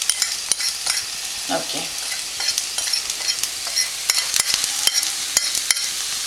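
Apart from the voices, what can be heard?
okra with spices being stirred in a pan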